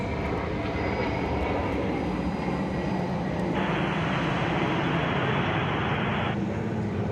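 A heavy airliner lands on the far side of Atlanta Hartsfield-Jackson airport on a hazy day, a steady broad engine roar that stays fairly even throughout, heard from a distance with no talk.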